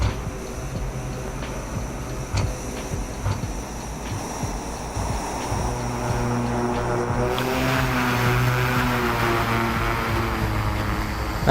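A Cessna 172 piston engine in the X-Plane 11 flight simulator drones steadily, its propeller hum rising in pitch and loudness partway through, with a few faint clicks and no talking.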